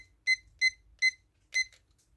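A kitchen timer set while muffins bake at 375 degrees lets out four short, bright electronic beeps in a quick even run, close and clean over near silence.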